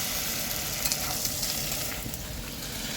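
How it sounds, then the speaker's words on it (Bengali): Potato fry being stirred together with egg bhujia in a hot pan, a constant close sizzle with soft scraping of the spatula rising now and then, no talking. "আলু ভাজার সাথে আর ডিম ভুজিয়া দিয়ে এখন মিক্স হচ্ছে।"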